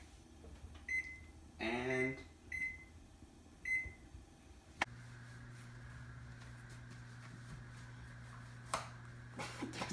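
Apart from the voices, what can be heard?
oven timer beeping while being set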